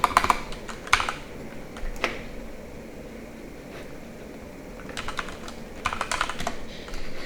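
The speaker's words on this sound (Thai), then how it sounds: "ต้องพิมพ์แบบนี้นะครับ" Bursts of typing on a computer keyboard while correcting Arduino code, with quick clusters of key clicks near the start, around one second and again near the end, quieter gaps between them and a steady low hum underneath; nobody speaks.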